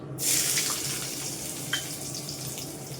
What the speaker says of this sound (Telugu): అల్లం ముక్కలు శుభ్రంగా కడుక్కొని సన్నం కట్ చేసుకోవాలి